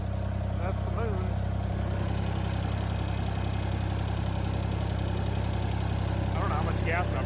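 A Ford 2600 tractor's engine runs steadily at idle outdoors at night, a constant low droning rumble that fills the whole clip. Faint scattered voices and small noises sit above the engine.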